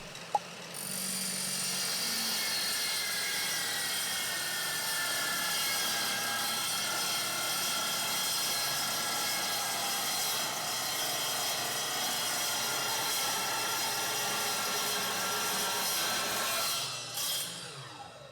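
A TNT miter saw cuts through a metal tube, a steady, loud high-pitched grinding whine held for about sixteen seconds before it spins down near the end.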